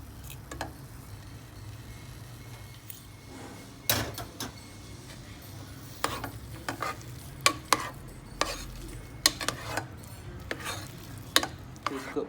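Butter melting in a hot pan for breaded fish and mash, giving a steady soft sizzle under repeated scraping and knocking strokes of a stirring utensil, sharp clacks scattered irregularly over a dozen seconds, close by with no voices.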